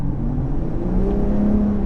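A car revving hard as it accelerates nearby, a steady engine roar with rising pitch, heard alone.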